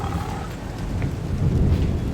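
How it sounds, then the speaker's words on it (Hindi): A continuous, loud rushing roar of a mountain waterfall in Nagaland, broad and steady with a low rumble, filling the whole clip. "आप इसकी आवाज़ सुन पा रहे हैं, कैसे इसकी आवाज़ आ रही है पानी की झरने की।"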